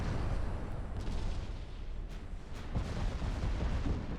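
A flash fire explosion aboard a warship in the naval video game Ultimate Admiral Dreadnoughts: a sustained, heavy low rumble of blasts and fire, steady and loud, with no voices.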